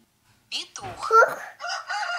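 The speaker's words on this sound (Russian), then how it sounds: "Петух." A tablet app plays a short recorded rooster crow, loud and close, lasting under two seconds after a brief silence.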